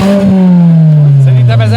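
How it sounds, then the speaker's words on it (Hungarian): A junk-build race car at a Danish field race roars close past, its loud engine note sliding steadily downward as it goes by. "Jön a diszkós autó."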